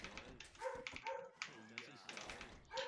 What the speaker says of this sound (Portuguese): Não sei se vocês escutarão minha cachorra latindo aqui